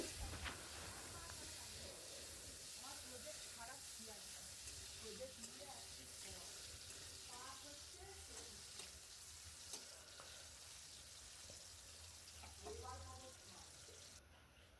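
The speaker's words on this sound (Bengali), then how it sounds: "কাজুগুলোকে এবার তুলে নিয়ে এবার কিশমিশগুলোকে ভেজে নিচ্ছি" Raisins frying in hot oil in a pan after cashews, giving a steady low sizzle with occasional stirring clatter throughout, fairly faint, with a voice talking faintly at times.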